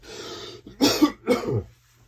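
A person coughs twice in quick succession, close and fairly loud, with a rough throaty rasp after a brief breathy lead-in, then quiet.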